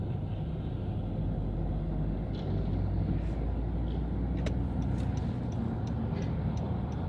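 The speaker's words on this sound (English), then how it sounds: "And there's a bunch of traffic coming" Steady road traffic rumbling past on an interstate, a continuous broadband roar of cars and heavier vehicles heard from inside a moving car, with faint ticking sounds partway through.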